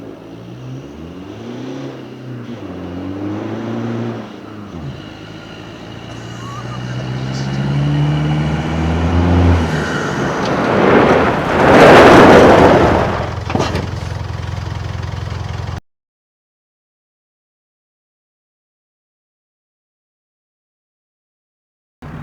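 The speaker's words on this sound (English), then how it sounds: "I'm going to set the Triton up, see what I can do, 0 to 60" A Triton 4x4 pulls away hard from a standstill on a 0 to 60 run, its engine note rising through several gear changes before a loud passing rush, then the sound cuts to silence.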